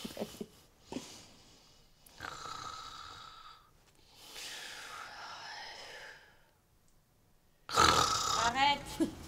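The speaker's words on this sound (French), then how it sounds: "Et tu ronfles toujours autant?" A person snoring at night in a bedroom, drawn-out rasping breaths in several separate bouts with pauses between, close and fairly loud, ending in a louder burst.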